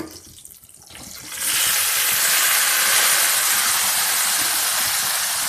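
Tomatoes tipped into a hot pan for a green chilli and tomato chutney burst into a loud, steady sizzle that starts abruptly and holds at full strength, close and without any talk.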